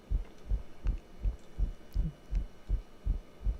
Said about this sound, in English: That's not my actual heartbeat. That's something that's happening here.